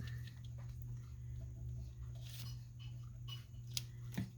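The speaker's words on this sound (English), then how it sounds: "That is my cat eating," A cat eats from a metal bowl, its tag clanking against the rim in a few sharp metallic clinks over a constant low hum, close and fairly quiet, without talk.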